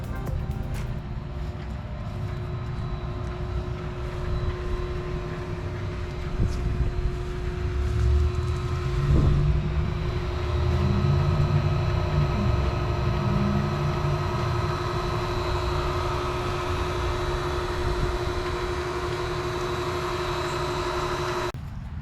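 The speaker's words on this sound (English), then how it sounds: "Test here with the old pump." An old inground pool pump runs steadily as a constant mechanical hum with a low drone, swelling slightly louder partway through and then holding even.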